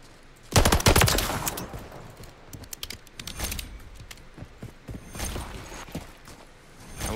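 Pistol shots in a video game: a few sharp, close bursts of reports, loudest early on, with quieter clicks and mechanical rattles between them.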